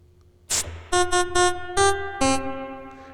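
Bright synthesizer stabs from a Therevox ET-4.2, five or six in an uneven rhythm, each ringing out into a long, washy reverb tail; a burst of noise comes first.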